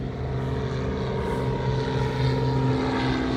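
Small propeller plane taking off from an airport in Essex County, New Jersey, its steady droning engine and prop hum filling the clip at a constant, fairly loud level, with no talking.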